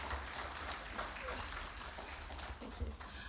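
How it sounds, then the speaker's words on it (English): Audience applause at an annual law lecture and symposium, a steady wash of clapping heard faint and distant throughout, with some murmuring voices underneath. "Can we please give him another round of applause?"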